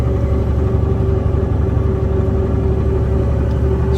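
A Euro KamAZ truck powered by a Russian-made KamAZ engine drives along with a loud, steady low diesel rumble and throbbing drone, constant throughout with no talk.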